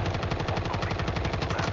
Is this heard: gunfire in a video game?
yes